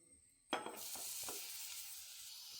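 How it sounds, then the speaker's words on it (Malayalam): Carrot drops into hot ghee in a pan, setting off a sudden sizzle after a brief quiet moment, then a soft, steady frying hiss with a few faint stirring scrapes. "ക്യാരറ്റ് ഇട്ട് ഇളക്കി കൊടുക്കാം"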